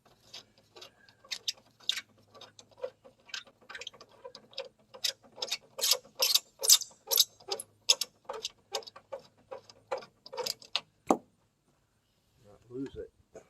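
A ratchet clicks in quick, uneven bursts while bolts are loosened on the top frame of a 1975 Triumph Spitfire convertible, close and crisp with short pauses, ending in a brief gap and a faint low rustle.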